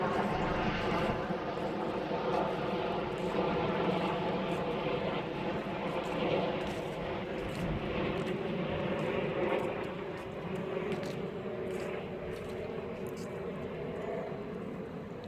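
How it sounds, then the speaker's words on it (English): A helicopter drones steadily overhead throughout, a constant low rumble with a faint rhythmic chop, over a quiet autumn outdoor scene. "you can now hear a helicopter above, disturbing what was quite a peaceful scene"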